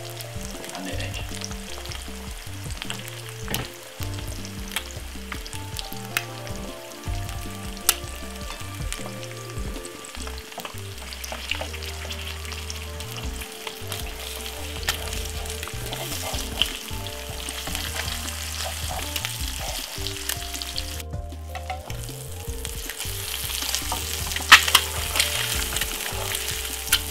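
Egg frying alongside bacon in a pan, seasoned with coarse pepper for a bacon sandwich, gives a steady close sizzle and crackle that runs unbroken, with occasional sharper pops and no talking.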